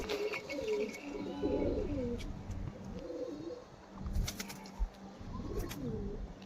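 Pigeons in a loft in Howrah give soft, rolling coos near the mic, joined by brief flutters of wing flapping and a sharp thump, with light background noise throughout.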